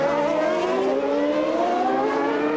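A Williams Formula 1 car with a 10-cylinder Renault engine screams along a racing circuit in 1991 racing, a steady high-pitched engine whine rising slowly in pitch as it accelerates, loud and continuous with no talk.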